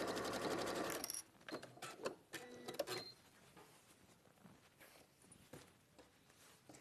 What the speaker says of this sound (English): So the other side is sewn on in exactly the same way.